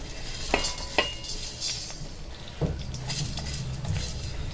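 Oil goes into a pan to roast spices for a Marathi-style gavran country chicken curry with green peas, with clinks and scrapes of a spoon against the pan, a few sharp metallic taps, and a low stirring rustle and light sizzle, with no talk.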